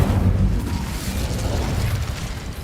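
The Incendio fire spell in Hogwarts Legacy goes off as a loud whooshing, crackling burst of flame with a deep rumble, sustained for a couple of seconds without speech.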